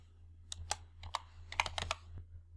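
Typing on a computer keyboard during spreadsheet formula entry: a quick run of crisp, close key clicks in irregular bursts, with no voices.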